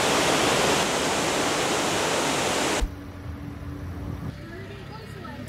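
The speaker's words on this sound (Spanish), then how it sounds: "antes paramos aquí a esta cascada, Pasla" Pasla waterfall in Thailand, a high-volume cascade pouring heavy water: a loud, steady broadband roar of falling water fills the first half before cutting to a quieter outdoor scene with faint background noise.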